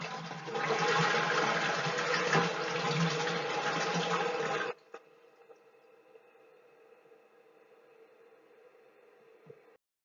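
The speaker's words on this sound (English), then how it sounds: "Of course, it's a flushing toilet." A toilet flushing up close: a loud rushing gush of water for several seconds that drops to a quieter, steady trickle as the cistern refills.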